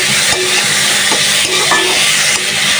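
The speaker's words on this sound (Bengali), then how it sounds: "আস্তে আস্তে শাকটা ভাজি করে নিই" Radish greens fry and sizzle steadily in a pan, a continuous close hiss broken by a few soft stirring scrapes, with no talking.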